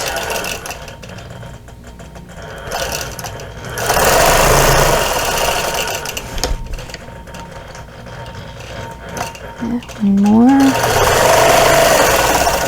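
A sewing machine stitches a row of quilting on a patriotic quilt, running in steady bursts with pauses between them, while a voice speaks at times over the whirring.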